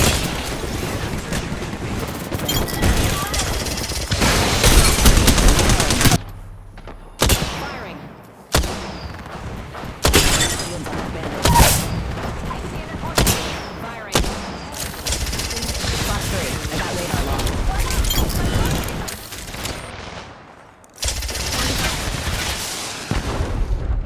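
A Valkyrie missile swarm in Apex Legends fires in repeated bursts of loud, crackling blasts and booms, broken by brief gaps, with faint voices now and then.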